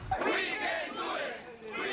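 A large, mostly Latino crowd of immigration-reform protesters marches across New York's Brooklyn Bridge, waving flags. Their massed voices swell in loud, sustained chanting and shouting that rises and falls.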